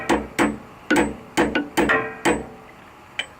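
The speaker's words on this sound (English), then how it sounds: "Got my little hammer, got my drift." A small hammer strikes a drift while a coilover is installed on a GTO, giving seven sharp metallic taps at irregular intervals, close and fairly loud, with no talking.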